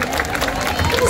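Audience applause at a kindergarten holiday concert, a steady, dense wash of clapping through the whole short moment with a murmur of voices underneath.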